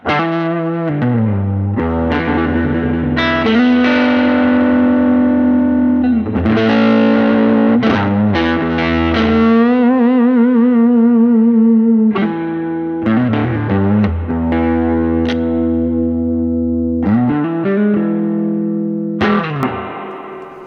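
Clean electric guitar through a blues pedalboard: continuous loud chords and single-note lines ringing for about twenty seconds, with no voices.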